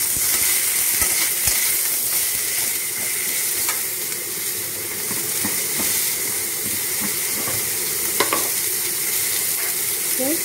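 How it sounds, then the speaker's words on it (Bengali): Eggplant and green banana fry lightly in oil in a wok, giving a steady close sizzle and hiss with occasional stirring clicks and scrapes. "এগুলোকে আমি আগে ভেজে নিচ্ছি হালকা করে"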